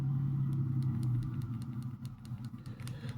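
Motorcycle engine outside an apartment, a steady low rumble that then tapers and fluctuates as it moves off, heard indoors at moderate distance.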